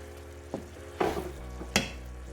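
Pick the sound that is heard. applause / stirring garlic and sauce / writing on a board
stirring garlic and sauce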